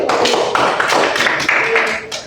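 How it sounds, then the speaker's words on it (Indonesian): Clapping in a classroom during a micro-teaching lesson, a small group of hands in fairly loud, uneven bursts of separate claps close by. "Terima kasih Mbak Eli, tepuk tangan dulu."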